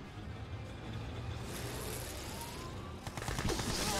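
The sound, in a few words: Gatling cannons firing in Mental Omega video game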